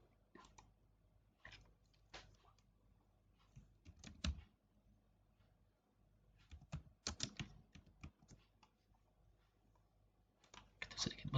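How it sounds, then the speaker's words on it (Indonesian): Bursts of typing on a computer keyboard, quiet and close, with irregular clusters of key clicks separated by pauses. "Kita ketikkan di sini."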